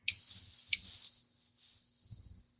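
Archangel and Angel tuning forks, one pitched near the high 4096 note, ring together in a pure, steady high tone. Two quick strikes start it, and the tone then sustains and slowly fades, clear and alone with no talk.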